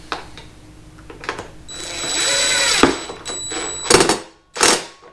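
A power tool drives and tightens bolts on a rear rack being fitted to a 2022 Kawasaki KLX300 motorcycle, with a loud close whirring run followed by two short sharp bursts, no talking.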